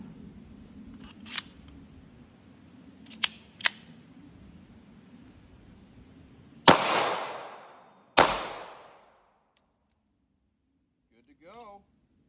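A 3D-printed Hi-Point C9 pistol frame fires two 9mm rounds, two loud, sharp, close reports about a second and a half apart. Softer mechanical clicks and handling noises come before them, and a brief voice follows.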